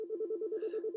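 Telephone ringer on a call-in phone line, a rapid warbling electronic trill pulsing evenly for about a second, close and clear, with a brief higher tone layered partway through.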